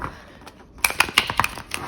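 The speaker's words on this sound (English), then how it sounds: "I'm just giving this a bit of a shuffle before we get the cards out." A deck of tarot cards is shuffled by hand, a sharp run of papery flicks and snaps that starts after a quiet moment and continues in a quick, uneven rhythm.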